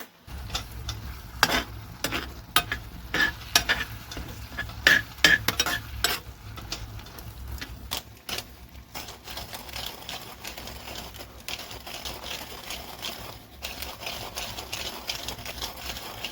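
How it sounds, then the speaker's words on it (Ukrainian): A spoon stirs chicken and lentil soup in a pot, making quick, close scraping clinks and rattles that come in irregular bursts, then settle into a steadier rhythm; no one speaks. "Ось так я все швиденько перемішую"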